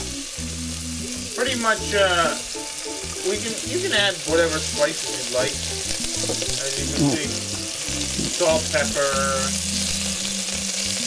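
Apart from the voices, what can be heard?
chopped meat frying in a pan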